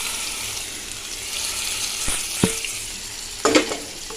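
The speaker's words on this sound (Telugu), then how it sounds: "ఆయిల్ వేసేసి ఈ పీతల్ని కొంచెం ఫ్రై చేయాలన్నమాట" Crabs frying in oil in a wok-style pan for crab curry, a steady sizzle broken by a few sharp clatters and scrapes as the pieces are moved about.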